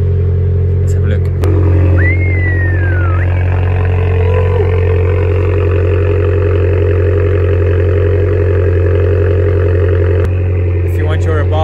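Abarth 595 with the rear exhaust back box removed, its small engine droning steadily and loudly near idle with a slight rev, heard up close alongside talk.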